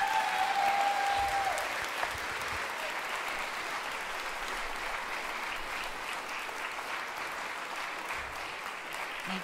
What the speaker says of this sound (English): Would you give a huge round of applause for all our candidates?